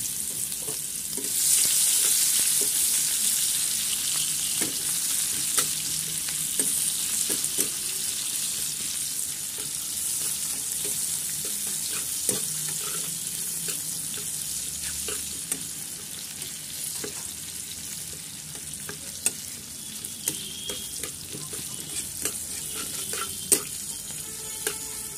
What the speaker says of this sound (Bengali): আর এই তেলের মধ্যে আমি এখন পেঁয়াজ দিয়ে দেবো, দিয়ে পেঁয়াজ কলিগুলো ভাজা করে নেবো